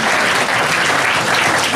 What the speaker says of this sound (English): give a round of applause to the Chamber of Commerce for hosting this event